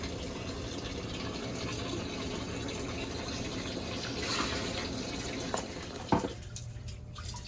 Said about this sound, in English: turning off and turning on the cold water tap